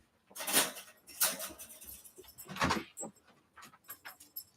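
A dog pants in short, rapid, breathy bursts close to the listener, with faint jingling and rustling in between, just before being taken outside.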